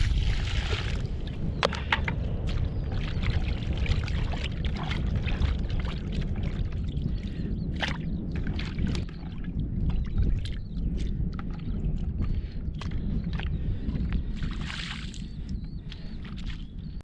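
Close-up sloshing and splashing of water in a container while rinsing lugworms, with uneven bursts of pouring and swirling over a steady low rumble.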